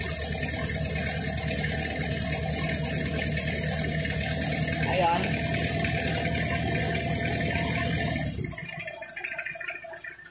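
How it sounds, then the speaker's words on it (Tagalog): A Toyota 2C diesel engine runs at a rough, shaky idle, a steady loud close mechanical drone with uneven vibration that drops away near the end, with a brief spoken word. "ayan, kita nyo mag-shake pa rin yung makina."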